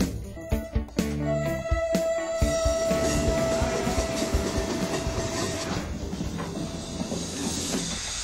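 Italian D 445 diesel locomotive hauling a freight train toward the Paratico landing in the Oglio park, 1992, passing close with a loud rumbling roll, hiss and clattering wheels, a sustained horn-like tone early on, then gradually settling.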